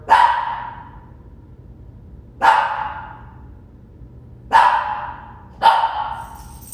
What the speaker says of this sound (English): breathing deeply through the barking of the puppy